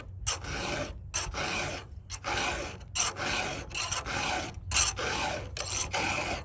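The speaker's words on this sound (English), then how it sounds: "I'll just go straight for a regular filing" A hand file is drawn across a chainsaw chain in about seven firm, evenly spaced rasping strokes, close and clear with short pauses between them.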